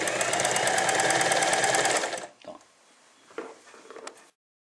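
Home sewing machine stitching along an embroidery pattern, a loud steady rapid whir for about two seconds that then stops, followed by faint handling clicks.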